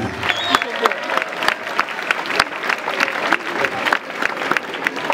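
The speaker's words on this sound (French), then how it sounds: "Le crew qui représente la France, IMMIGRANDZ, on les applaudit bien fort s'il vous plaît" Loud crowd applause at a dance battle between crews, with a dense wash of clapping, sharp individual claps and some cheering, and voices mixed in.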